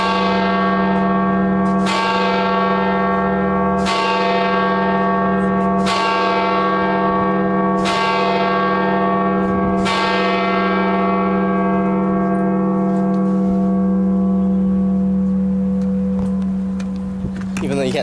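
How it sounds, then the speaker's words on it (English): Church bells in a bell tower in Rome toll loudly and close, five evenly spaced strikes about two seconds apart, each ringing out in a long humming decay that fades over the final seconds. "that was the top of the very bell tower that the bells are ringing"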